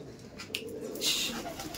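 An Andhra pigeon coos up close in a loft, a soft throaty burble over steady background noise and faint chirps from other birds.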